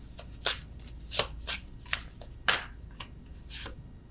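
Love oracle cards being shuffled by hand nearby, a handful of crisp papery riffles and snaps spaced irregularly over a quiet background, no speech.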